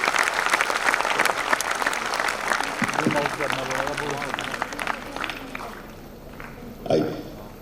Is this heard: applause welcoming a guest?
yes